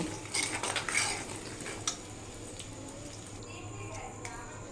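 Homemade hair oil being stirred in a pot, with a spoon clinking and scraping against the metal in a quick burst early on, then a low steady simmering hiss underneath for the rest.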